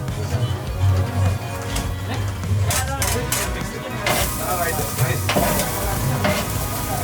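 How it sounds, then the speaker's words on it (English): Kottu roti cooked on a griddle at a street stall in Sri Lanka, loud sizzling with rapid metallic chopping and clanging of blades in uneven bursts, with people talking nearby. "we're going to get a little lesson how to cook kotu"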